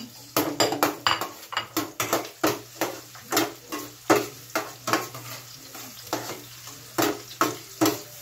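Onions sizzle in hot vegetable oil while a utensil stirs them in a steady rhythm of close scraping strokes against the pan, over a constant low frying hiss.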